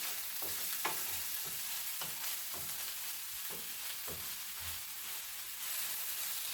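Fish roll filling cooks in a pan with a steady, soft sizzle punctuated by repeated stirring scrapes, heard close and without talk.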